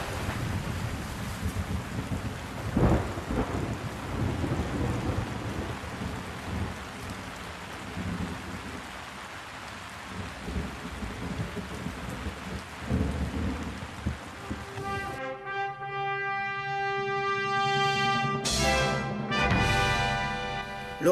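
A thunderstorm breaks over rafts in the Grand Canyon: heavy rain drums on surfaces amid rolling thunder, with wind buffeting the microphone, then a sharp crack and ringing rumble close overhead.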